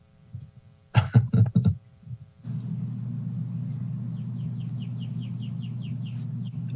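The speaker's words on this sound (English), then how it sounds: "Some bird out there that just won't cut it out right." Outside, a bird repeats a quick series of short, high chirps, faint and somewhat distant above a steady low hum, after a few louder bumps at the start.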